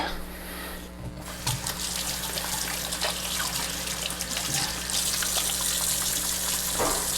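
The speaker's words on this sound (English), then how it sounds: "So let me wash my hands" Tap water runs steadily into a kitchen sink while hands are washed, a continuous splashing flow with small clatters and shifts as the hands move under the stream, close and fairly quiet, with no talking.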